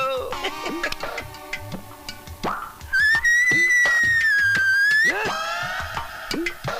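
A person whistles a long, steady, high note for about two seconds as a call to summon someone. It comes between bursts of lively background music with other sound effects.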